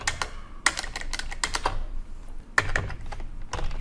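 Code being typed on a computer keyboard, with bursts of rapid, close keystrokes broken by short pauses, clattering steadily on its own with no voices.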